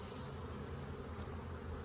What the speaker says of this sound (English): A lot of bees flying around.